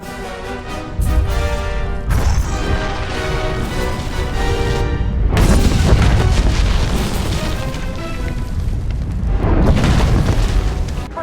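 A bomb detonates in the Star Wars: The Old Republic video game with deep, loud rumbling booms. Two heavy surges swell and roll on for several seconds with no talking.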